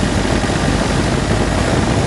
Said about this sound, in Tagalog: Kaya ang gagawin ko dyan, i-revolution ko itong makina.